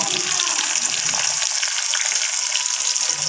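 Cumin and onion frying in hot oil in a home kitchen while cooking masala Maggi noodles, giving a steady, loud sizzle throughout with light stirring and no talk.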